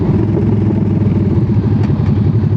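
Motorcycle engine idling up close, a loud, steady, slightly lumpy low rumble with even rapid firing pulses and nothing else heard.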